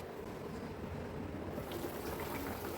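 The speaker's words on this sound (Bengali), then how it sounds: "খুব ভালোভাবে বলক উঠে আসছে" Ilish (hilsa) fish curry in mustard sauce simmering at a rolling boil in a pot on the stove, a steady close bubbling wash of liquid with no voices.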